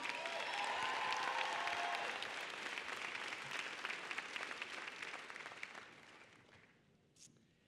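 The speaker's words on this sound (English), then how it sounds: "And a round of applause for Gabby and Bobby Bearcat" Dense applause fills a university winter commencement hall, a large crowd clapping loudly at first, then thinning out and fading to a few scattered claps by the end, with a brief voice early on.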